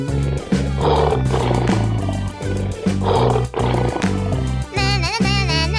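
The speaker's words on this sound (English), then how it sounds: "Lion." A cartoon-style lion roars in several loud repeated bursts over a pounding rhythmic music bed, ending with a rising warbling tone.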